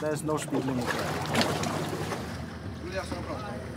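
Motorboat out on the water on its first outing, a steady engine drone with wind rush and splashing, close and loud, with brief voices heard over it.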